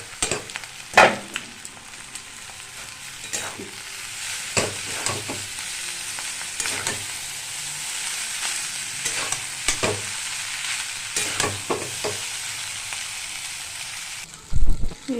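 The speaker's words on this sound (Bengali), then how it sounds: "নেড়ে চেড়ে প্রায় মিক্সড হয়ে গেছে" Chow mein seasoned with black pepper is stirred and fried in a pan, giving a steady broadband sizzle throughout with repeated scraping and tossing clatters of the utensil, close and fairly loud, with no talk.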